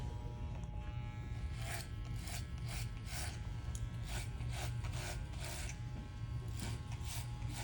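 An electric hair clipper buzzes steadily while cutting hair for a taper haircut at a Nevada state board barber exam, with a constant close drone and faint rhythmic scraping passes.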